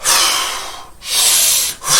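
Two long, forceful breaths drawn close through the nose as a deliberate breathing exercise, each a loud airy rush with a brief gap between, and no talking.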